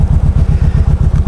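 A 2017 Kawasaki Voyager 1700 motorcycle engine rumbling close and loud, a deep, evenly pulsing idle-like throb with a steady, quick rhythm and no talk.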